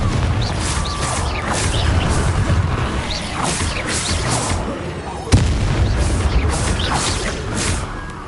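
Confringo blasting spell in Hogwarts Legacy bursting in a rapid series of loud booming impacts and crashes over dense game effects, with one sharp blast near the middle standing out.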